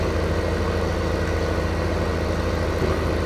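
A steady, loud tractor engine drones in Farming Simulator 15 as the undamaged machine reverses, an even low idle-like hum with no talk over it.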